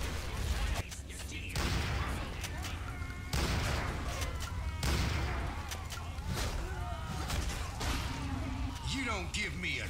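Explosions and gunfire in the video game Necrovision, set against a German army: a run of heavy booming blasts and crashing impacts, loud and repeated, with someone talking over parts of it.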